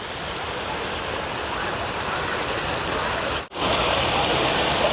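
A park fountain in Philadelphia splashes in a steady, loud, broadband rush of falling water that fills the whole stretch, interrupted only by a brief dropout near the end.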